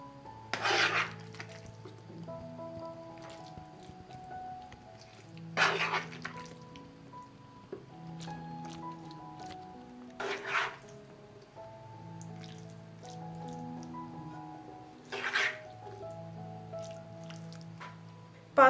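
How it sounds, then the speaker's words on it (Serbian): Cooked beans tipped from a pot into an oven-safe bowl greased with a little oil, giving a few soft wet plops and squishy drips at intervals over a steady low background hum. "I sada pasulj preručujem u činiju."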